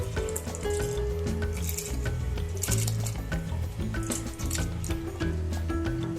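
Mysore dal is tipped into a pot of six tumblers of boiling water, giving continuous bubbling and sizzling with scattered clinks and splashes close by.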